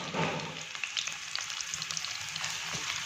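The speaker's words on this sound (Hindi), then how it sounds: "तो यहाँ पर जी हमारा प्याज जो है इसको हम भून रहे हैं।" Onions frying in cooking oil in a kadai, sautéed and stirred; a close crackling sizzle with occasional spatula scrapes and pops, no voices.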